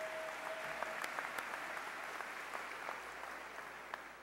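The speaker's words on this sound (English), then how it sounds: "Congratulations, clap it up." Applause at a 2015 commencement ceremony: a large crowd claps steadily from a distance, a soft, even wash of clapping with a few sharper individual claps standing out.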